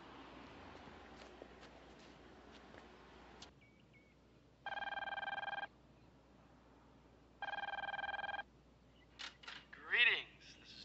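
A telephone rings twice in an office-like room, each ring a loud electronic trill of about a second separated by a pause, followed by a few brief clicks and a short voiced sound.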